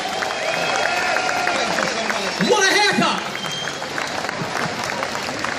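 A rally crowd at Whitehall, London, claps and cheers for a departing speaker. The applause swells, peaks briefly in the middle, then eases as someone talks loudly over it.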